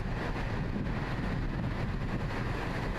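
Strong wind with gusts up to 100 km/h roars steadily near the Lake Ontario shore, a dense low rumble buffeting the microphone throughout with no pauses.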